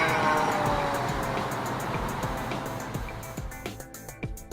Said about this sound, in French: Un bon exemple de l'effet Doppler est le déplacement d'une voiture.